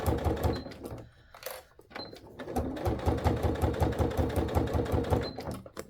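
Sewing machine fitted with a Teflon foot top-stitching a faux leather iPad bag at a long stitch length, a steady rapid mechanical chatter running close up after a brief pause near the start.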